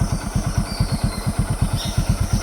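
A motorcycle engine chugs in a fast, even pulsing rhythm, close and loud, while riding off-road along a steep jungle track with vines brushing the bike.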